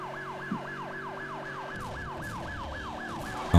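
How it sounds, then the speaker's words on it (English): Police car siren from Need for Speed Hot Pursuit, a loud rising-and-falling wail cycling rapidly and steadily, ending with a sudden louder thump. "You change your siren, Bugs. It's getting kind of annoying."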